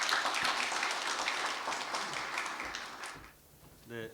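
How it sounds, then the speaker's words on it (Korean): Audience applause welcoming a speaker at a book concert on Korea–ASEAN diplomacy; the clapping is moderately loud, then thins out and fades, and a voice begins speaking at the very end. "여러분 큰 박수로 환영해 주십시오"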